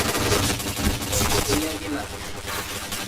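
Rapid bursts of automatic gunfire from the PointBlank shooter game, dense and loud throughout with a rattling, continuous texture.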